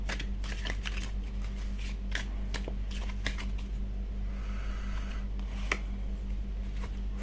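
Tarot cards being shuffled by hand, a series of crisp riffling bursts and soft card slaps at an uneven rhythm, close up over a steady low hum, no voices.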